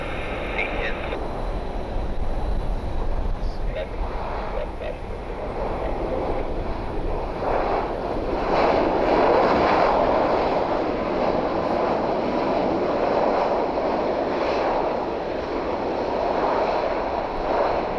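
A Southwest Airlines plane at Columbus Glenn Airport gives a steady, broad engine roar that builds slightly midway, with wind buffeting the microphone and a voice talking over it.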